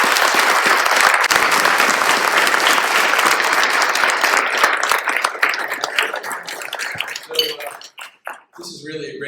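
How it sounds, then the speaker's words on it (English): An audience at an ambassadors' circle event honoring the Mexican ambassador claps loudly and steadily, the applause gradually thinning and breaking into scattered claps and a few voices near the end. "let's give the ambassador a big round of applause"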